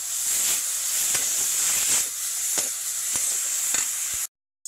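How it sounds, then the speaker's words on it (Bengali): Onion paste frying in a dry pan with no oil gives a close, steady sizzling hiss broken by regular scraping stirs, then cuts to a brief silence at the end. "পেঁয়াজ বাটাটাকেও ভাজা করে নেব।"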